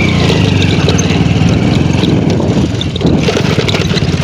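A small motorcycle's engine runs loud and close during an offroad jungle ride, a steady buzzing drone that strains slightly and dips briefly before rising again, with wind rush over it.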